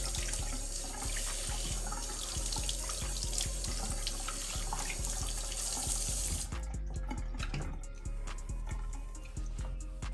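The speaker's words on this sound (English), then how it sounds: "I'm gonna wash this one, but I'm gonna leave it in the sink until I'm done drying up the other one." Water running from a tap into a sink while washing a black Balenciaga Mold slide, a loud steady splashing rush that suddenly thins partway through, then drips and trickles continue.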